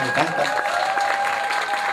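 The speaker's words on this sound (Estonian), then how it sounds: "Teeme veel ühe kõva aplausi." Audience at a small outdoor concert applauding briefly, a steady mid-level patter of hand claps with a faint sustained tone in the background.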